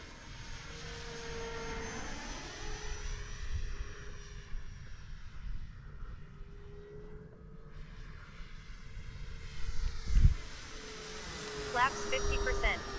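Radio-controlled model airplanes, a Viper and a Turbo Timber Evo, fly overhead in fine weather, their motors droning and sweeping up and down in pitch as they pass at moderate distance, with a voice talking over them.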